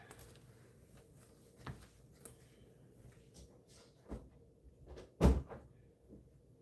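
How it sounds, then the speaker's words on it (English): A door is shut indoors: one firm, close thud stands out near the end, after a few softer knocks and rustles in a quiet room. "One second, I forgot to close my door."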